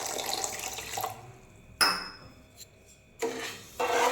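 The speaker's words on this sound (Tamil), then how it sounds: "அதுக்கு ஒரு அரை கப் தண்ணி ஊற்றிக்கலாம்." Half a cup of water poured from a cup onto sugar in a pan, a close splashing pour in separate bursts with brief pauses between, moderately loud and clear with no talk.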